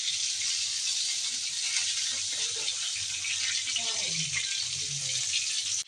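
Vegetables for a winter fish and dal meal fry in a pan with a steady hiss, close and fairly even, with faint clinks and scraping near the end.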